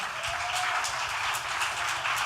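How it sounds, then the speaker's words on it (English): A crowd claps steadily in a dense, continuous wash of applause for a couple of seconds. "Can we just give Nelson and the UN a round of applause today?"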